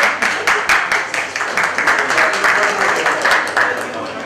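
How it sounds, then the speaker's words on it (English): An audience at a Canon and K7 tech day gives a round of applause, the clapping dense and near with a slight rhythmic pulse, rising and falling in waves, while voices mix in underneath. "Give a round of applause to all these people who have joined and this"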